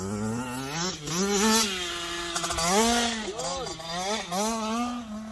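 A Kawasaki KX65 dirt bike ridden by a six-year-old learning to jump revs continuously, its engine pitch climbing and dropping in repeated surges, close and loud, with people shouting over it.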